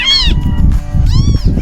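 Several kittens, one tabby and one black, meow in two high, drawn-out cries at the start and end. Low rustling and handling noise runs underneath throughout.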